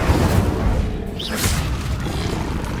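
The Incendio fire spell is cast in Hogwarts Legacy, giving a low, rumbling boom with a brief whooshing flare near the middle over continuous game ambience.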